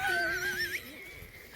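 A llama gives a high, wavering whining call, a thin quavering cry that rises and falls for over a second, close and fairly loud with no talk over it.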